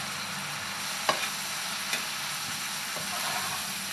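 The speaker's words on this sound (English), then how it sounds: "Now the trick is to let the breadcrumbs dry down a bit, again so that they're a little bit crisp." Garlic mushrooms with fresh breadcrumbs fry in a pan with a soft, steady sizzle and a couple of faint clicks as they are stirred, close up and with no talking.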